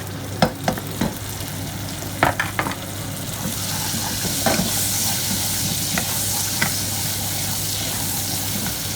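Browned onion and two Scotch bonnet peppers fry in a pan, opening with a few stirring clacks before settling into a loud, steady, close sizzle.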